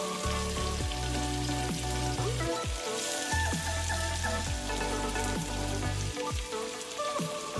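Onions added to a pan with cabbage and carrots for soul food street tacos, giving a steady crackling sizzle behind gliding tonal sounds that repeatedly sweep downward.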